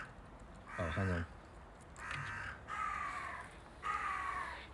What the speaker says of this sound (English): Screeching magpie feet noise.